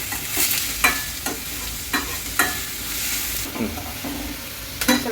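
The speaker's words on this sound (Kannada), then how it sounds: "ಸ್ವಲ್ಪ ಗೋಲ್ಡನ್ ಬ್ರೌನ್ ಕಲರ್ ಬರೋವರೆಗೂ ಹುರಿರಿ." Ingredients for a spicy garlic chicken fry sizzle steadily in a pan while a spoon stirs and scrapes, producing sharp, regular clinks over the continuous frying hiss.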